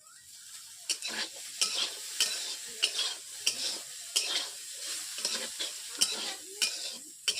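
Potatoes sizzle in a pan while being stirred, with a steady frying hiss broken by repeated scraping strokes about every half second to second, close and fairly loud, with no talking.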